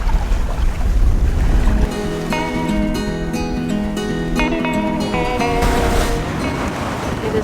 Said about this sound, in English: It is not the most comfortable sail right now because we have to go really high beam reach to make our course